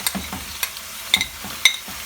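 Beef keema frying in a pan as tomatoes go in, with intermittent clinks and scrapes of a spoon over a low, steady sizzle.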